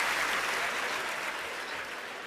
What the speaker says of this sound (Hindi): ताली यहाँ नहीं बजानी थी